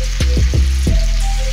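Sausages frying in a pan sizzle and spatter steadily, with several quick popping crackles close by and no talking.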